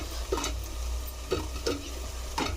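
Tomatoes are dropped into a frying mutton curry base, which keeps up a soft, steady sizzle broken by several short stirring scrapes spaced about a second apart.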